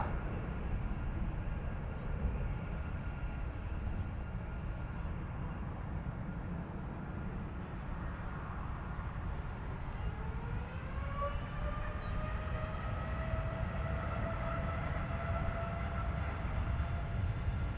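An airliner departing from runway 36L at Amsterdam Schiphol gives a distant, steady roar. A rising whine of the engines spooling up comes through, and a voice talks intermittently over it.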